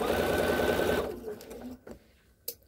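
Sewing machine stitching fabric for a McCall's 6044 garment, a fast close whirring run that stops after about a second, followed by faint handling clicks and a small knock.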